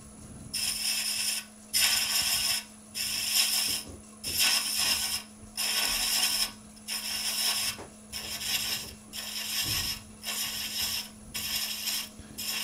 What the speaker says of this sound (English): as I start deepening that thread, I'm just bringing the handle round.